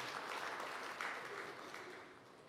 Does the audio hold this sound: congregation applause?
yes